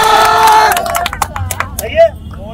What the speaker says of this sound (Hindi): ताली बजाओ भैया के लिए